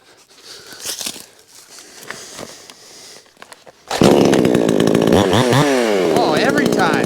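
A chainsaw in the woods: soft footsteps and rustling at first, then the saw starts and runs loud and close, its engine revving up and down with a buzzing rasp.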